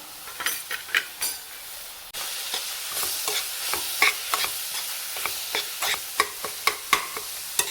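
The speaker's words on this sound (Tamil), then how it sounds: "நல்லா கிண்டி விட்டுக்கோங்க" A spoon stirs spice powders into an egg curry masala in a pan, with rhythmic scraping strokes repeating over a steady, close sizzle and no talk.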